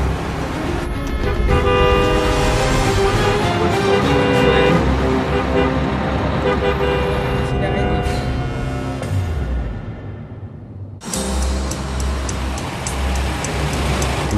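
Heavy road traffic rumbles close by, with loud, repeated blaring horns over a continuous engine drone that briefly drops away before the honking resumes.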